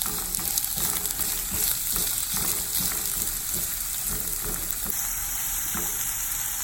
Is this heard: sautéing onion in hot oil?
yes